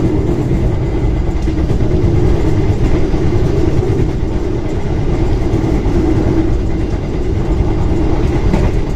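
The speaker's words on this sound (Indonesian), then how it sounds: "Sesaat lagi kereta api Tawang Jawa Premium akan tiba dan berhenti di stasiun Jati Barang" The Tawang Jaya Premium train rolls toward Jatibarang station in Indonesia with a loud, continuous rumble and faint rail clatter. The sound is heard from on board and runs steady throughout, with no voices.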